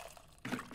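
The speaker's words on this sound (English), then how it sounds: "Pour some water." Water pours in the cooking video game Venba, a short broadband splash and trickle starting partway through, fairly quiet and alone.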